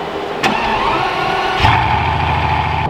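A 1,000-horsepower all-wheel-drive Bugatti Veyron revving loudly up close, with its engine note rising in two sharp surges over a steady rumble.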